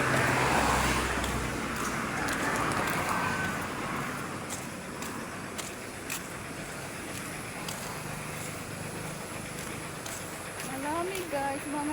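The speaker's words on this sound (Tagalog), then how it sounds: "Maraming na mga sasakyan." Roadway traffic with many vehicles, including trucks and motorcycles, rumbles past in a continuous wash of engine and tire noise, strongest at the start, heard while walking along the road.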